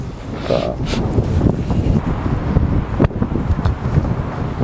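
Gusty wind buffets the microphone on a golf course in a continuous rough roar, with faint voices briefly audible underneath.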